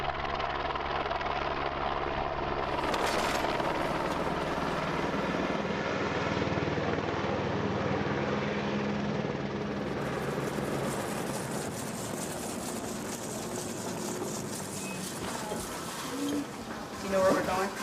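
A medical transport helicopter on a hospital pad gives off a steady, continuous rotor and engine roar that holds throughout, with people talking faintly underneath.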